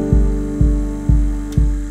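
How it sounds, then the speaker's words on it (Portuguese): An electric stand mixer hums at its lowest speed, a steady low drone with four evenly spaced throbbing pulses, loud and close. "qualquer batedeira funciona, tá? Não falei antes, falo agora. Deixa eu mostrar a velocidade mínima da minha."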